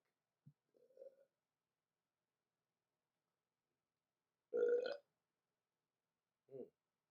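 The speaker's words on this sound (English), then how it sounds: "Excuse me, I got the burps." Burps from someone sipping homemade apple alcohol: a few small, short croaks, then one loud, throaty belch and a last brief one, each separated by silence.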